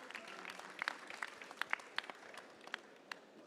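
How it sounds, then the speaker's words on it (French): Scattered, fairly faint clapping from a small audience, with a few sharper individual claps standing out over a soft wash of applause. "je pense qu'on peut l'applaudir"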